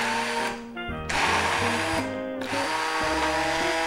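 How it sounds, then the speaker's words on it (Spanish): A hand blender purees cooked ingredients for leek mashed potatoes, its motor whirring loud and close with pitch dips and surges as it churns through the mixture, heard alone without talk. "ahora lo voy a triturar. Bien triturado para que quede muy ligado y muy jugoso."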